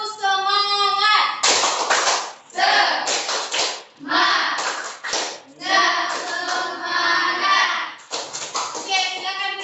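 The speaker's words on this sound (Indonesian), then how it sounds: "Tepuk semangat." A classroom group claps in a quick rhythmic pattern, with short bursts broken by brief pauses, close and loud, with children's voices mixed in.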